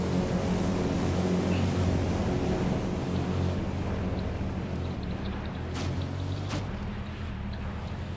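A continuous low propeller plane engine drone in the video game H1Z1, steady and rumbling, with a couple of brief sharp clicks near the end and no talking.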